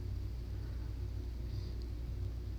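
Steady low rumble of cars on a highway beside a concrete bike trail near Tampa Bay. The traffic sounds distant and continuous, with no talking.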